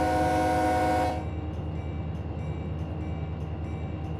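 Locomotive horn sounded at a whistle post in Run 8 Train Simulator III, a loud steady multi-tone blast ending abruptly after about a second, followed by a low rhythmic diesel engine rumble.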